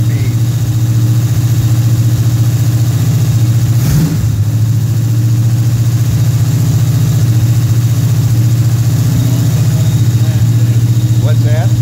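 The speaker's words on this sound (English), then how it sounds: "as the engine starts warming up, that fast idle cam will start dropping down" Pontiac engine with a Quadrajet carburetor idling as it warms up on the fast idle cam, a steady, loud, even drone that holds for the whole stretch with one brief bump partway through.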